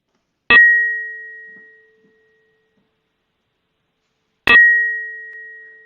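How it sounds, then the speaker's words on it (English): An NMR signal of cyclohexane played as audio: two clean tones, each starting with a sharp strike and ringing out in a long, slowly fading steady pitch, separated by a few seconds of silence. "Here's the sound of cyclohexane."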